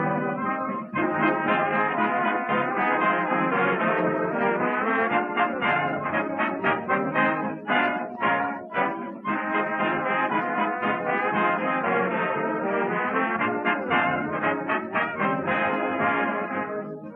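Big-band music from an old-time radio comedy show, with a band playing a lively, steady arrangement of brass and reeds that stays full and loud throughout, with no talking.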